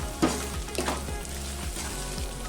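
Amaranth leaves and dried ribbon fish frying with turmeric and salt in a pan, a dense steady sizzle broken by a few quick stirring scrapes over a low background hum.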